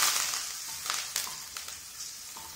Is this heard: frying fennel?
yes